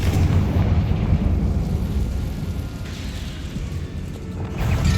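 Confringo blasting spell explosions in Hogwarts Legacy, a loud continuous rumbling boom with a heavy low roar that eases slightly midway and swells again at the end, with no talking.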